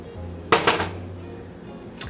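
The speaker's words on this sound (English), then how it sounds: "peel these bananas and put them in a bowl to prep for" Peeled bananas are dropped into a bowl during kitchen prep for banana bread. Two quick, close clunks against the bowl come close together, and a fainter third knock follows a moment later in an otherwise quiet room.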